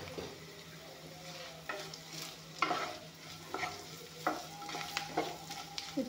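Prawns fry and sizzle in a hot pan for a coconut and kuisa fish curry, with a steady hiss and repeated stirring scrapes and clatters close by. No one speaks.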